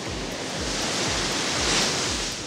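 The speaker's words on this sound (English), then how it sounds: "I love, love, love just being out here and hearing the waves crashing." Ocean waves crashing on Malibu beach, a loud continuous roar of surf close to the shore, swelling slightly in the middle with wind-like rush and no voices.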